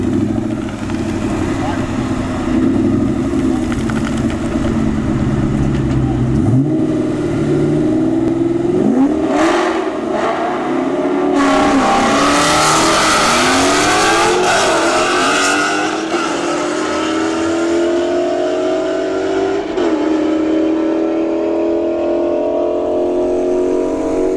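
A supercharged New Edge Mustang Cobra drag races a Mustang S550 at a strip, engines roaring and revving through repeated gear changes, loud and close, with an announcer talking over it.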